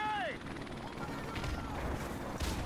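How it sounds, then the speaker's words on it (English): A helicopter killstreak circles in a first-person shooter, a pulsing rotor drone under bursts of gunfire and explosions, with a falling whistle at the start and players talking over the action. "I got a helicopter."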